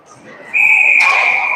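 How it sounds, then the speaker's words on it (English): A referee's whistle at a 14U youth ice hockey game gives one sharp, loud, sustained blast close by, over the faint murmur of the rink. "That whistle's at 3:57 here"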